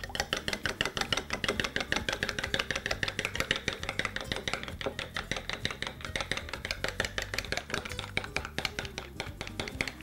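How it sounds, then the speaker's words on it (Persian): Egg white, separated from the yolk, is beaten vigorously with a spoon in a bowl for a face mask, producing a rapid, steady stream of close clicking and tapping strokes that continues without pause. "هر قدر که این سفیدی تخم مرغ لط بزنید کیفیت ماسک بهتر و خوبتر میشه"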